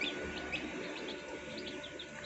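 Young chicks kept for poultry rearing, just before a Lasota vaccine dose, peep constantly in a busy flock: many short, high chirps overlap at a steady, lively pace against a low background hum, with no voices.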